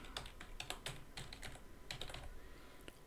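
Rapid typing on a computer keyboard, a quiet, steady patter of light key clicks close by with no talking.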